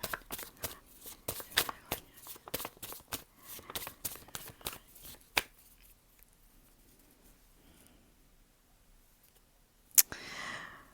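Tarot cards shuffled by hand in a rapid, crisp patter of close, light slaps for several seconds, then near silence broken by one sharp snap and a brief rustle.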